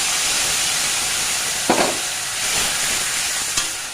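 Spice paste with coriander powder and Kashmiri red chilli hits a hot pan for chutney, a loud steady hiss and sizzle with a couple of brief spatter bursts, close and continuous with no talk.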